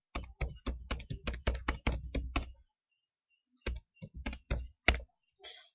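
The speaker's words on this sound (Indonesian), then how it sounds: "Kita ketik di alamat browsernya www." A website address is typed on a computer keyboard: a fast run of sharp, close key clicks, then a pause of silence before a second shorter burst of keystrokes.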